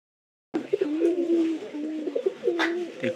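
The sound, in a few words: pigeon cooing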